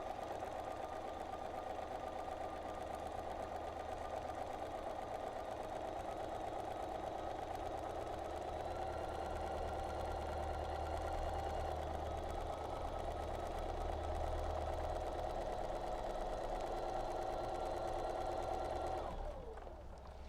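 A sewing machine steadily stitching a ruffled quilt border, its fast even hum and rattle running without a break for about nineteen seconds before it slows and stops.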